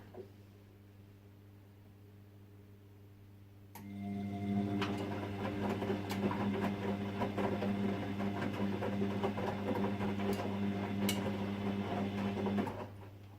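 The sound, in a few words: washing machine running a wash cycle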